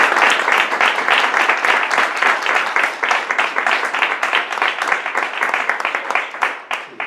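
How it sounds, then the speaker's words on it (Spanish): An audience at a lecture on General Manuel Díez-Alegría and the Spanish transition applauds, with dense, steady clapping that keeps up throughout and tapers slightly near the end. "Y ahora pido un aplauso para este"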